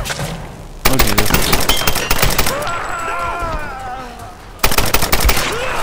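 Rapid bursts of gunfire in the video game Tomb Raider (2013), loud automatic volleys that start, pause to a quieter stretch with a tonal voice-like sound, then resume.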